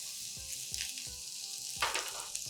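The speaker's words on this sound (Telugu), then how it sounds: "ఇంకా కొంచెం నెయ్యి వేసి, మళ్ళీ కొద్దిగా నెయ్యి వేసి ఈ గుమ్మడికాయ ముక్కల్ని వేయించేద్దాం" Pumpkin pieces frying in ghee for a moong dal payasam, a soft, fairly quiet sizzle with recurring scraping stirs of a spoon in the pan, no voices.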